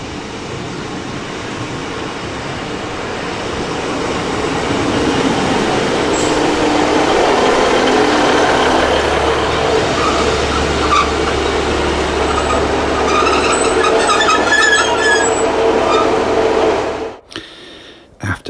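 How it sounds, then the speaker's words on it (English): A passenger train on the Tamar Valley Line between Plymouth and Gunnislake rumbles along the track, its steady, loud rolling noise building and holding before dropping away abruptly near the end. "After leaving Dockyard Station, the train crosses the St Leven's Road viaduct"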